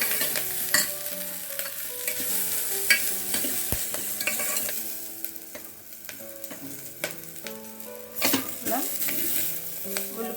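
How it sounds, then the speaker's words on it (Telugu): Fenugreek leaves fry and get stirred in hot oil with onions in a pan while making methi dal, giving a steady soft sizzle broken by frequent scraping and clinking strokes of a spatula, close and continuous, with no talk. "ఉల్లిపాయ ట్రాన్స్పరెంట్ అయ్యే వరకు ఫ్రై అయ్యేంత మెంతి కూర ఫ్రై అయితే సరిపోతుంది"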